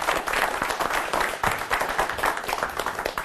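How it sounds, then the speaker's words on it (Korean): An audience claps to welcome the head of a defense leadership development institute as he arrives to give a military leadership lecture. The applause is steady and fairly close, with no talk over it. "박수로 맞아주시기 바랍니다"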